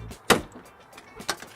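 A car door unlocking through an RFID implant reader mounted behind the driver's side window: two sharp, close mechanical clunks about a second apart over a quiet background.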